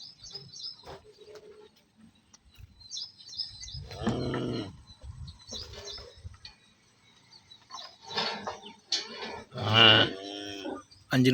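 Cows mooing and lowing at a farm while waiting at milking time, several drawn-out calls from different animals near and farther off, with birds chirping in between.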